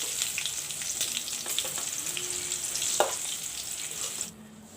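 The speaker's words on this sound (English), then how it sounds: "Put in the potatoes to be fried." Potatoes fry in a pan with a steady bright sizzle and light crackles, one sharp pop near the end, before the sound drops away abruptly; no one speaks.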